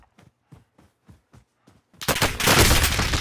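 Gunfire in Warzone on the Caldera map: a quick run of about eight sharp, evenly spaced shots, followed by a sudden loud, dense burst of noise that fills the rest of the moment.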